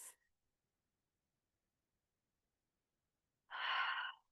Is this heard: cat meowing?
no